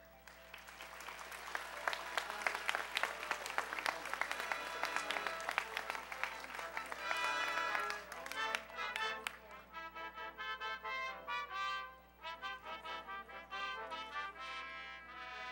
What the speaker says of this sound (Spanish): Despedimos al presidente, a la primera dama, con unas fuertes palmas.